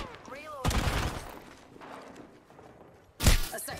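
Distant gunfire in an online ranked shooter match, two muffled bursts thumping through a quiet in-game background with faint ambient noise.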